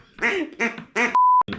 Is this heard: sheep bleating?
no